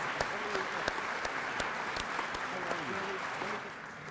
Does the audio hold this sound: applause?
yes